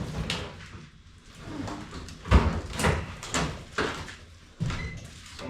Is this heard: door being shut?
yes